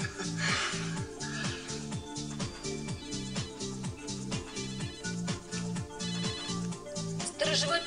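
A telephone rings in a repeating electronic ringtone pattern of short warbling bursts, steady and fairly quiet, with a faint background of laughter and voices from a TV series.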